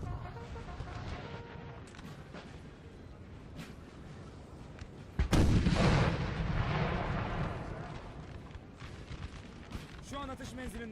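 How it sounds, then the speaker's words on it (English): Artillery fire in the Napoleon: Total War video game, a single heavy cannon boom with a long rumbling tail amid ongoing battle ambience, while someone talks quietly. "The artillery duel is still ongoing."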